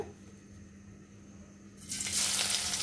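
Chopped onions drop into hot white oil in a pan, setting off a sudden loud hissing sizzle that stays strong after a quiet lead-in with a low background hum.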